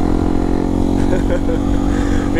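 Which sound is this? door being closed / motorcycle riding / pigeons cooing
motorcycle riding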